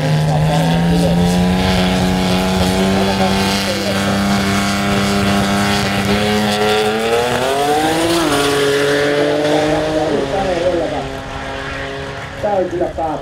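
A drag racing car at the Kauhava Drag Race Finnish championship accelerates at full throttle, a loud, sustained engine roar climbing in pitch and then fading near the end, with a commentator talking over it.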